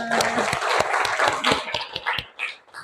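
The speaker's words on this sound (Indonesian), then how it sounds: "Tepuk tangan untuk kita semua." A classroom of students clapping hands in a mathematics lesson, a short burst of uneven claps close by with some voices over it.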